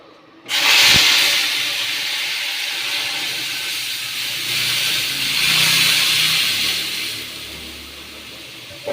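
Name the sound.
lentils (dal) being tempered in hot oil, sizzling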